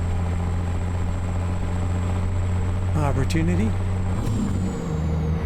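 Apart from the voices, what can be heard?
1,005 horsepower truck engine in American Truck Simulator video game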